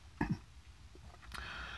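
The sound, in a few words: throat clearing cough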